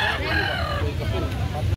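Rooster crowing at a chicken farm in Carbon, Cebu City, a single loud close crow with a raspy drawn-out call over farm background noise.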